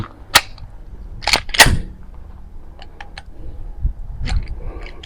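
Two close, loud pistol shots from a Glock 30 firing .45 jacketed hollow point rounds at a range, followed by clinks and handling noises and a third sharp bang near the end.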